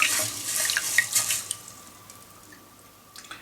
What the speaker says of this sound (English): I'm going to just keep rinsing it and the water will just flow out.